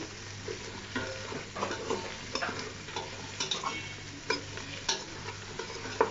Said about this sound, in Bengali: আপনারা ভালোভাবে নাড়িয়ে নেবেন।